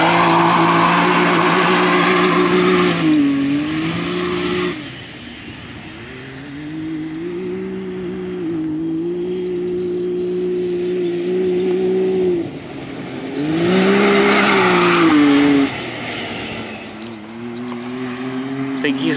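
Stock Can-Am Maverick X3 side-by-side on heavy desert tires driving off, its engine revving and surging in loud waves that rise, dip and rise again, with voices talking over it.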